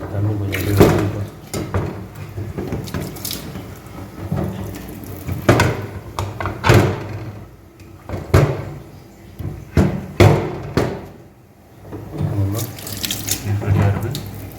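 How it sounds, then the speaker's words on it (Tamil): Water pours and splashes in bursts onto rice set to soak for beef biryani, punctuated by several knocks and clinks of a container, close by with no talking. "ஸோ தண்ணி கொஞ்சம் அப்படியே ஊற்றிப்போம்."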